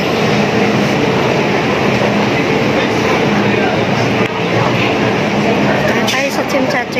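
A Hong Kong MTR subway train running, with a loud continuous rumble and whoosh of the carriage heard from close inside, along with faint rattling and clatter toward the end; people's voices mix in under the noise.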